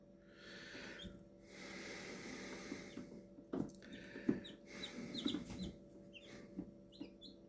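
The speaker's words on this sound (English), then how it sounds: "Quit pecking it, chicken." Newly hatched eggs in an incubator as a chicken clucks softly and pecks at the eggshell, leaving small sharp taps and scattered clucks over a steady mechanical hum, fairly close but quiet.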